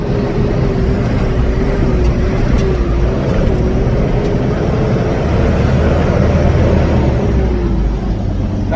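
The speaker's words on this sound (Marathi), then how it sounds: "गाडी निघालेली आहे भावांना." A truck loaded with raisins from Tasgaon pulls away on the road toward Sangli, its engine a steady, loud drone with a low rumble and a slowly wavering tone, continuous throughout with no talking.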